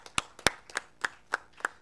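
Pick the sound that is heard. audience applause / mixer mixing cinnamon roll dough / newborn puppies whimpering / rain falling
audience applause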